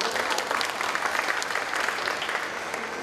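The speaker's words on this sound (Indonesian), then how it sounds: "Tepuk tangan dong." Audience applause at a marketing week event in Jakarta: steady, dense clapping from a crowd, sustained and fairly even throughout the short stretch, moderately loud with no voices standing out.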